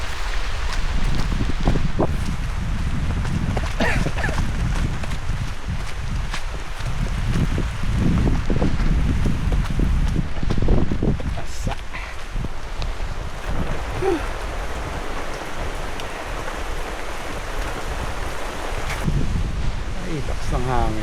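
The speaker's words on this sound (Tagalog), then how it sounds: "Lakas ng hangin." Strong gusts buffet the microphone in a constant low rumble, with a few brief voices and rustling underneath.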